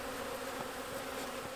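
Honey bees buzzing steadily at a hive being checked in spring, a dense, continuous hum of many wings close by with no voices.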